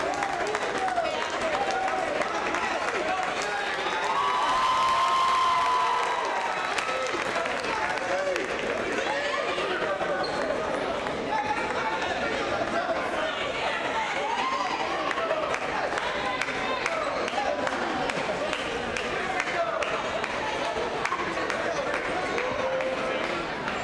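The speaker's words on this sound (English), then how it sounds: "you can hear the crowd get wild" A dense crowd cheers and claps continuously at a CSAC basketball championship as the coach climbs up to the rim's net, the roar steady and loud with a brief swell early on and scattered voices mixed in.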